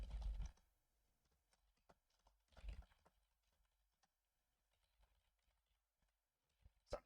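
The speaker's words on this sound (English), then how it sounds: "So I'm just typing." Sparse keystrokes on a computer keyboard during a League of Legends match come as faint isolated clicks and taps, with a few louder thumps near the start, middle and end, and no talking over them.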